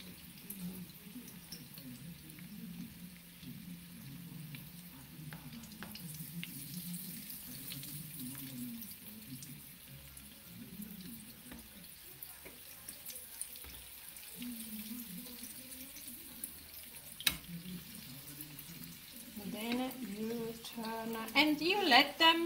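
Butternut squash arancini frying a few at a time in hot oil, a steady soft bubbling sizzle running throughout, rising and crackling more busily toward the end, with a voice talking over it.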